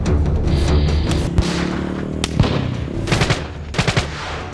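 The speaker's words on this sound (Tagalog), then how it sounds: "natigil ang putok ng bala." Rapid machine-gun fire in a dramatized reenactment of a 2004 nighttime shooting of a radio commentator in San Nicolas, Ilocos Norte, with dense bursts and several sharp, loud shots standing out near the close.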